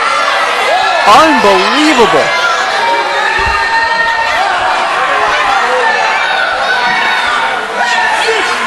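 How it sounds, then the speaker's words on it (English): A wrestling crowd roars and cheers steadily in an arena after a brutal exchange of moves, a dense wall of voices with a commentator talking over it and a brief excited vocal outburst early on. "Crowd's on its feet checking this one out."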